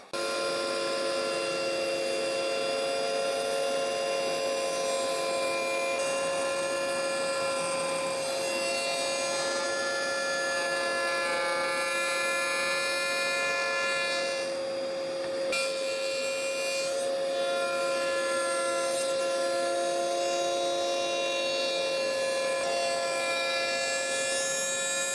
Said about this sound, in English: But I'm going to use the router table.